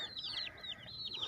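A Rhode Island chicken clucks in a quick series of soft, repeated calls, fairly close over a low farmyard background hum, with no voices.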